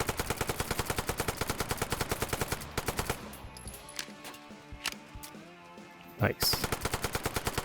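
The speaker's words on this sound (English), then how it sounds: "It's supposedly a high fire rate gun. Let's try it. That's full auto" Rapid full-auto bursts from a high-fire-rate PDW in the H3VR virtual reality shooter, a long loud stream of dense shots, then scattered single cracks and a final short burst, with a brief spoken remark.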